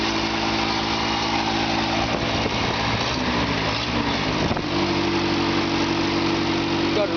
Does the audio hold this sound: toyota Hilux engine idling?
yes